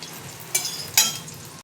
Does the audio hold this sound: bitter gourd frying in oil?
yes